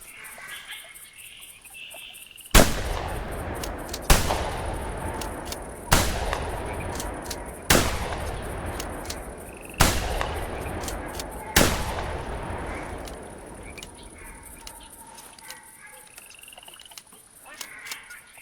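Shotgun blasts at a flock of ducks in a bayou duck hunting video game, six sharp loud shots spaced a couple of seconds apart, each trailing off in a long echo over faint outdoor ambience.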